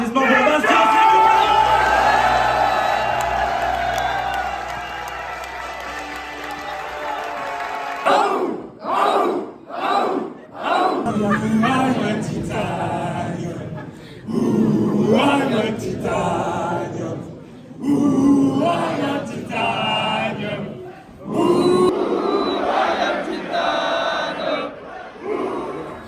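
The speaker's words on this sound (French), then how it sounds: "Un maximum d'applaudissements pour Bastien." A crowd at an event roars and cheers loudly for Bastien, a long sustained shout that breaks into bursts of yelling and whoops with pauses between.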